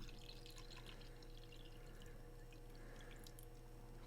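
Water pours into a G-Fuel shaker bottle, a steady, close, fairly quiet stream of splashing and trickling that runs the whole time with no talk over it.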